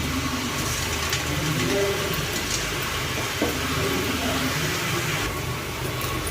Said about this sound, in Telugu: గులాబ్ జామున్ తీసుకొని మనము ఇలా ఫ్రై చేసేసుకుందాము